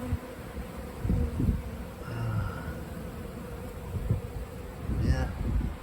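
Honey bees buzzing around a flood-damaged beehive outdoors, a steady low insect drone with a few closer passes buzzing by amid light wind noise.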